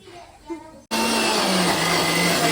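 A kitchen mixer grinder switches on abruptly after a moment of quiet household talk, then whirs loudly and steadily with a dense, constant motor roar.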